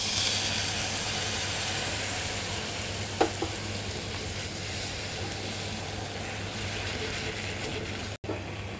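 Finely chopped shallot and a splash of white wine in a hot pan, heard as an even, steady hiss and sizzle that stays close and constant, with one faint click partway through.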